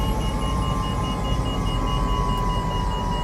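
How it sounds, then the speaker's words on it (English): A warning tone beeps steadily inside an aircraft cockpit after landing, heard under a constant engine and cabin drone with no talking. "Get out of the cockpit so I have to listen to this beeping"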